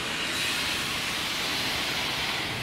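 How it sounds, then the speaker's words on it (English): A pneumatic compressed-air locomotive turntable turning, a continuous broad hiss of air that holds steady throughout, moderately loud and close. "Compressed air turntable, so it turns on,"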